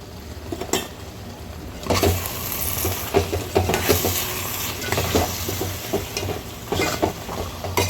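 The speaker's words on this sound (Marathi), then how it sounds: "आता याच्यामध्ये आपण सिमला मिरची टाकून घेऊया आता याला परतून घ्यायचं आहे" Capsicum sautés in oil with cooked-down tomato in a pan, a loud, close frying hiss broken by repeated scraping and stirring strokes of a spatula.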